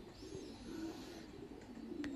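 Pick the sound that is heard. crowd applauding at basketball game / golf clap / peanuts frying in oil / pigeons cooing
pigeons cooing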